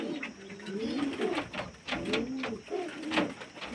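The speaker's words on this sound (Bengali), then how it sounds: "আমার ঘরেরই পায়রা, বাচ্চা থেকে বড় করা এই পায়রাটা দেখুন" Pigeons raised at home from chicks coo up close in repeated rolling, throaty phrases, each lasting about a second and separated by short pauses.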